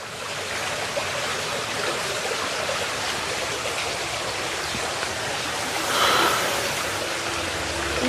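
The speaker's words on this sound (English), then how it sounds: "all I can hear is just water" Water rushing continuously through an old mill at Pleasley Vale, a dense, steady roar that stays close and loud throughout, swelling slightly near the end, with no voices.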